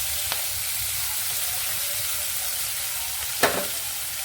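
Green chillies and onion pieces sizzling in hot oil make a continuous even crackle and hiss, close by, with two brief utensil knocks, one near the start and a sharper one later, and no speech.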